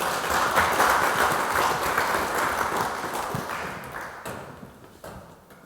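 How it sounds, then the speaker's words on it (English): Audience applause at a community engagement event, a full, even burst of clapping from a room of people that slowly thins and fades toward the end. "Round of applause for Tyler."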